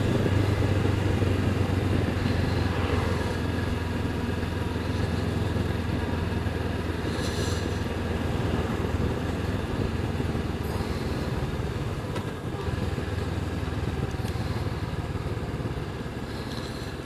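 A Honda CB500X, a 500 cc motorcycle, hums steadily while riding, its engine drone mixed with heavy wind rush, constant and moderately loud, with no voices.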